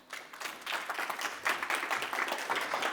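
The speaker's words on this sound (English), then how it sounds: "and give him a round of applause, please." Audience applause at an AI research conference, a full room clapping steadily at moderate volume, the noise swelling slightly toward the end with no talking over it.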